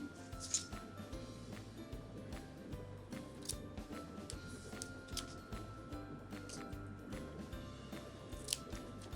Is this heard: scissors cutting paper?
yes